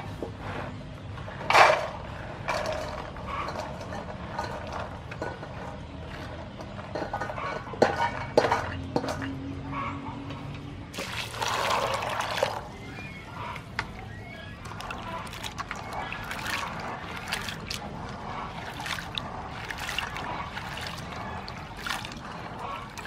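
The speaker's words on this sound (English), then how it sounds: "Now I start to clean black eye peas." Black-eyed peas soaked in water for a few hours are rinsed and cleaned by hand in a bowl, with scattered sloshing, trickling and light clinks of the dish, fairly quiet and intermittent.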